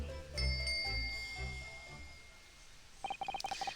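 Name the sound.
bell cord pulled, ringing bell, video game The Great Ace Attorney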